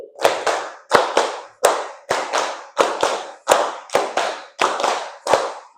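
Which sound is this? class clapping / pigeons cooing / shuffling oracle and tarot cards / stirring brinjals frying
class clapping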